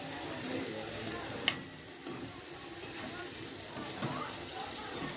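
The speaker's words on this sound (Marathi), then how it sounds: "आता हे सगळं असं ढवळून घ्यायचं, परतून घ्यायचं." Okra sizzles steadily in a pan over a low flame while being stirred, with a continuous hiss, one sharp clack of a utensil, and soft scraping scattered through.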